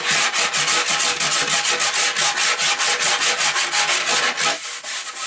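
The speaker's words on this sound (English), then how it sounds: "take a rasp or file" A rasp or file scuffs rhythmically across a deer mount form, a steady series of loud, close rubbing strokes with no talking.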